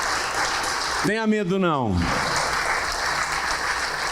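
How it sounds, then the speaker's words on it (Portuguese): Church congregation applauding throughout as a steady, dense wash of clapping, with a voice speaking briefly over it in the middle. "Vamos aplaudir mais ao nome de Jesus por cada vida que está chegando."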